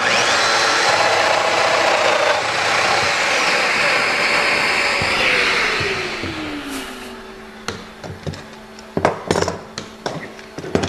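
Festool Domino XL joiner cutting a mortise in wood: a loud, sustained whine that winds down as the motor stops, followed by clatters and knocks as the tool and workpiece are handled.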